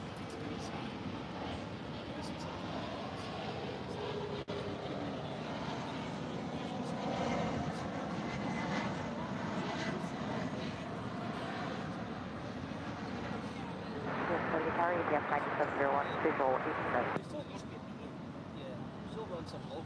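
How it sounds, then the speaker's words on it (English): A UPS Boeing 757 jet arriving at DFW airport produces a loud, steady engine roar that swells near the end, heard under ongoing talk. "That's followed by that UPS 757 coming in from New Orleans"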